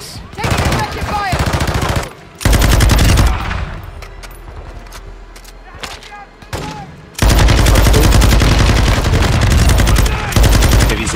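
Automatic gunfire in a combat video game, with a light machine gun firing long, dense bursts at close range and loud, brief pauses between them, while players talk over the shooting.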